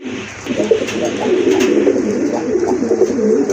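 Pigeons, including a large Irani Golla, coo steadily from close by in soft repeated low throaty calls that overlap one another, with light background noise and no talk.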